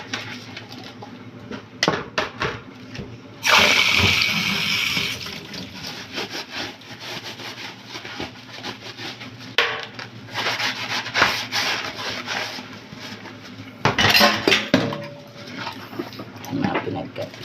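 Coffee cups and dishes washed by hand with water, with steady rubbing and scrubbing, clinking and splashing, and a loud burst of running water partway through, close up with little talk.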